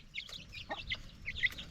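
Mother hen separated from her chicks, clucking in short, irregular bursts of sharp calls at moderate distance, faint and otherwise quiet, with no talking.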